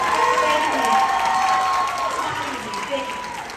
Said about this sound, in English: I think we should start by giving Neil a round of applause.